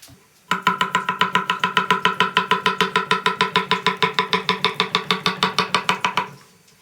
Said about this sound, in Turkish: Kabaklarımızı önce gelişi güzel bir doğrayacağız.